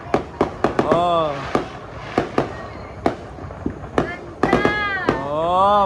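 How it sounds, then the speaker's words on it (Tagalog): Fireworks bursting on New Year's Eve at a new house, a series of sharp cracks and bangs at irregular intervals, some close together, alongside cheering and excited voices and whistling shrieks rising between blasts. "Oh, fireworks."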